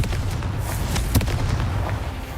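A Confringo spell explodes in Hogwarts Legacy with a single sharp, booming burst amid a dense, crackling roar of magical impact, loud and close against a busy rumbling background.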